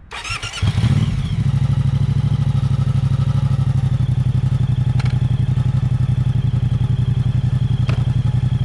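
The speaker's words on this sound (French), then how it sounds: "il y a une sorte de bruit parasite qui accompagne le fonctionnement du moteur" A Moto Guzzi V100 motorcycle engine starts with a clattering burst, then settles into a loud, steady idle with a continuous scrap-metal-like mechanical rattle and a couple of faint clicks.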